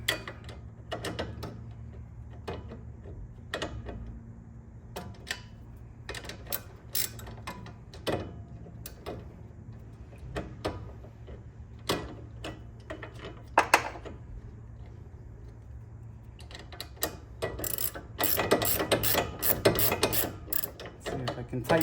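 A ratchet wrench clicks while tightening a sway bar link nut on a 2006 Ford Escape Hybrid, sounding as scattered, close mechanical ticks that turn into rapid continuous clicking near the end.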